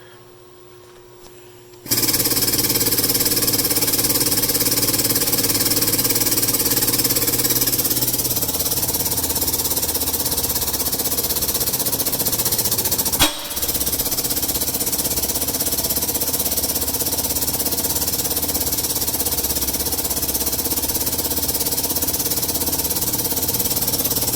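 A loud pneumatic tool starts abruptly and runs steadily with a rapid, rattling hammering drone, with a sharp bang partway through, while working on 1967 Firebird axle bearings.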